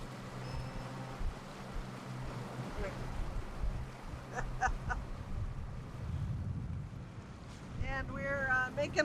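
A boat's engine drones steadily under gusty wind noise while motoring out of an Alaskan anchorage, with a few distant bird calls and brief voices toward the end.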